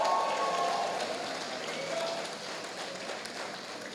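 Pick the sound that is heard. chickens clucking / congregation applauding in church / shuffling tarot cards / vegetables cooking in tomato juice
congregation applauding in church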